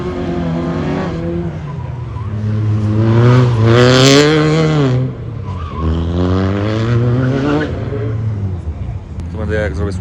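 A rally car runs a stage at the Marpol Rally in snowy conditions, its engine loud and close, pitch climbing then falling away as it sweeps past, with a tyre-squealing edge.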